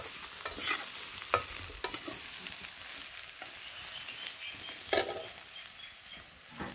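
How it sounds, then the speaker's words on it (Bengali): Potatoes being stir-fried in a pan make a steady, soft sizzle, with scraping stirs and occasional sharper clatters of the spatula against the metal, all fairly close and without any talking. "তো 4-5 মিনিট ভইরা আলুগুলো সুন্দর করে কষাইলাম, একেবারে লাল লাল করে।"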